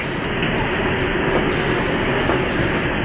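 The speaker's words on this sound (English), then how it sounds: "Because the train is going to go that way." A train in Phoenix rides along the tracks, a dense, steady rolling rumble heard from inside the car, constant and fairly loud with no talk.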